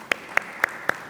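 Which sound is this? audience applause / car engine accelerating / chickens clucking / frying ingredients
audience applause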